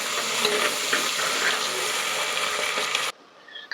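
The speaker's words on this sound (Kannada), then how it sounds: "ಇವಾಗ ಇದು ಸ್ವಲ್ಪ ಫ್ರೈ ಆಗ್ತಾ ಇದೆ." Green chillies, cut for flavour, fry in a pan for a chicken biryani, giving a steady close sizzle with light stirring scrapes for about three seconds before it cuts to near quiet.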